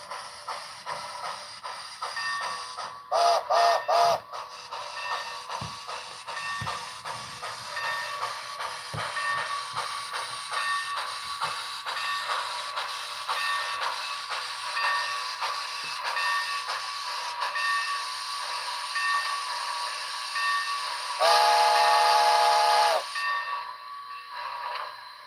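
A model railway train runs steadily with a continuous mechanical hiss and chuff, broken by two loud, sustained steam whistle blasts, one short early and one longer near the end.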